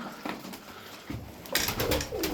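Colourful fancy pigeons kept as show birds cooing close by, soft low throaty coos building in the second half, a brief burst of nearby fluttering or movement, no talk.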